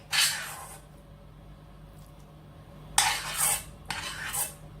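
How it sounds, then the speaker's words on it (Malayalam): Beaten egg mixture for a Spanish omelette is whisked in a bowl with a utensil, three short bursts of wet clinking and sloshing separated by quiet pauses, close and alone. "ഇതിന് ആവശ്യമുള്ള അത്രയും കൂട്ട് നമുക്ക് ഇതിലേക്ക് ചേർത്ത് നന്നായി മിക്സ് ചെയ്ത് കൊടുക്കാം"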